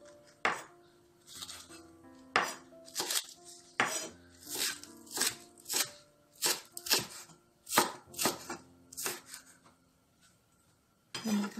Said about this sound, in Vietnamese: Hành lá này thì mình sẽ cắt nhỏ ra.